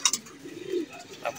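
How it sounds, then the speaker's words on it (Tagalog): Racing pigeons coo softly and close by during toss training, with a low rolling coo in the middle and faint wing or beak clicks around it. "Ito yung mga makukulit na ibon"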